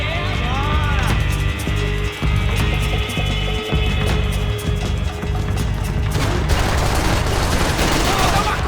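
Rapid gunfire rattles through a Max Payne 3 shootout, repeated shots and mechanical clatter layered over a steady game score, with voices speaking at times and a loud burst of noise near the end.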